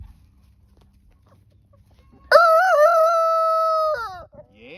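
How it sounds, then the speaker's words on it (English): A single loud, close rooster crow rings out clearly after a quiet stretch, a long drawn-out call lasting over a second, followed by faint clucks. "roosters cock-a-doodle-doo"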